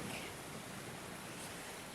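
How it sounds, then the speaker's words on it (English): Steady broadband rush of flowing stream water, continuous and fairly loud, with no voices over it. "the sound of that water's driving me frantic"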